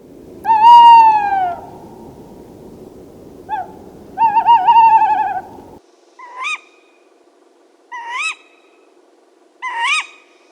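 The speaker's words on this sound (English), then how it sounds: "These are the ones that make the haunting twit-twoo noise that a lot of people get to hear on a regular basis." A tawny owl gives its hooting calls, a long wavering hoot followed by shorter quavering notes and then sharp repeated calls spaced a second or two apart, loud and clear against a quiet night background.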